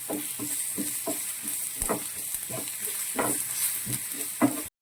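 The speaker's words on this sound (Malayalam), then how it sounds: "ഇത് നന്നായിട്ട് ഒരു മിക്സ് ചെയ്ത് ഫ്രൈ ചെയ്യണം" Bread fry sizzles steadily in a hot pan while a utensil scrapes and stirs in repeated strokes, close up, with no talking.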